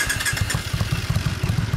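A Suzuki Intruder Classic 400cc motorcycle fitted with a Hurricane muffler idles close by, giving a steady, loping low thump of exhaust pulses that sounds alone.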